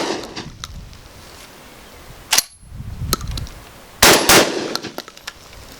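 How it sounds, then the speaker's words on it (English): Two sharp, loud shotgun blasts from an American Tactical TacSX2 crack out close by, followed by metallic clanks and rattling between and after the shots. "I'll go fast this time, as quick as I can pull the trigger and see what happens."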